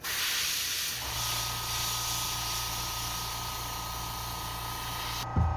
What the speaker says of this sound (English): Now we gotta spray the little lateral line doohickey